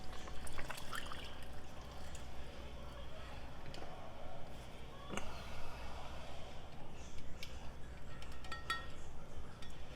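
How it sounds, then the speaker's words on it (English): Milk and half and half poured into a cooking pot in a home kitchen, a steady liquid splash and trickle with light clinks, close, over a constant background hum. "So now we're going to add our cup of milk and cup of half and half"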